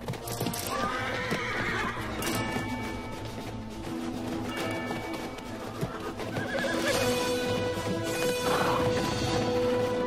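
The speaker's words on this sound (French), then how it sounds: "L'étalon dominant intervient pour remettre les jeunes à leur place et défendre ses femelles." A wild stallion in Namibia neighs and whinnies repeatedly as he drives off young horses, with shrill calls over a busy herd background of hooves and movement.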